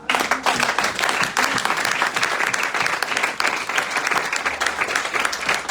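A church congregation breaks into sustained, dense applause and clapping, loud and steady throughout, with a few voices faintly mixed into the crowd.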